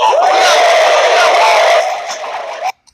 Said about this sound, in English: you'll certainly see huge crowd reactions